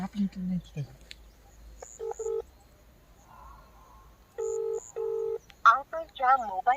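A phone places a return call, and the line gives two rounds of paired electronic ringback beeps separated by a quiet pause. A voice starts talking near the end.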